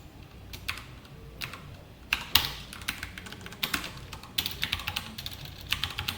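Code is typed on a computer keyboard during a Spring Boot programming lesson, with quick clusters of close, crisp key clicks in uneven bursts and brief pauses between them.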